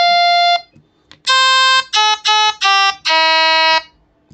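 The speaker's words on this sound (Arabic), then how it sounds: "معانا الساكس كمان، كذا نغمة كذا صوت للساكس" Electronic organ keyboard playing a saxophone voice: a held tone, then a sequence of sustained buzzy notes with short gaps between them, loud and close, with faint background noise and no speech.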